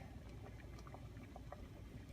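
Water boils in a pot for pasta shells, giving a faint, steady bubbling and rumbling hiss with small irregular pops throughout.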